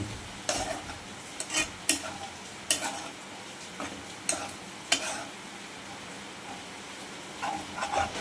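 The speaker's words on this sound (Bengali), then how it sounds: "ঘিটাকে ভালো করে নাড়িয়ে নেব" Ghee stirred in a pan for peda sandesh, a spoon scraping and knocking against the metal in irregular strokes over a soft continuous sizzle, close and clear.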